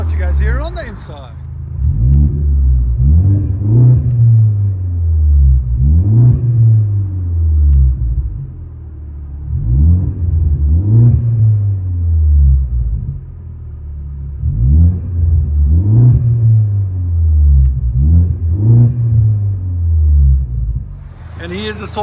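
Interior view of a 2016 Ford Focus ST 2.0L turbo with an AWE Track Edition 3-inch cat-back exhaust: a deep, loud droning rumble rises and falls through repeated rev sweeps, with a talking voice over it.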